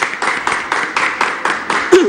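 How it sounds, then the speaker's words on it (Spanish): A studio audience claps in a brief, even burst of roughly eight beats for departing guests on a Peruvian bread-themed TV show, ending with a faint voice. "Vamos entonces a despedir con un aplauso a nuestros invitados."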